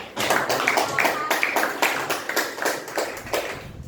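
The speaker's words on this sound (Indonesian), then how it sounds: "Kita beri tepuk tangan dulu." Classroom applause after a student group presentation, a small group clapping in a quick uneven rhythm, close and fairly loud, with distinct individual claps audible.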